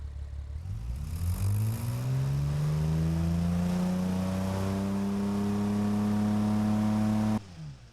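A car engine in the video game BeamNG revs up from idle into a sustained high, rising whine, then cuts off abruptly near the end; loud and close, with no talking.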